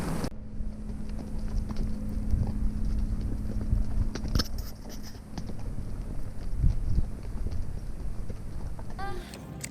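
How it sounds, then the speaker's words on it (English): Horse hooves clip-clopping steadily along a trail ride in Arizona's Tonto National Forest, a continuous close patter with some wind noise over the microphone. "That's horse riding here in Arizona."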